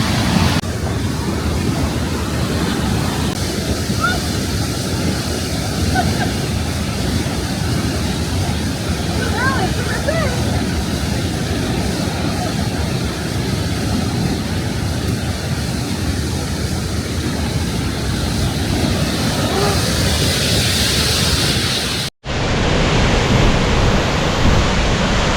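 Cascate di Riva, a waterfall in the Dolomites, roars as a dense, steady broadband rush that stays loud and close throughout, with a brief cut near the end before the roar returns.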